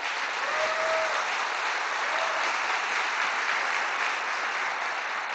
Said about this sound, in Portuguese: a quem eu peço a salva de palmas